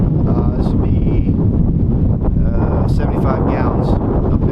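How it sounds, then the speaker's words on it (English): Strong wind gusting across an open old field being sprayed with clover seed mix, roaring steadily and loudly into the microphone with broadband buffeting throughout, with faint rustling and hints of speech beneath. "it is super windy out here"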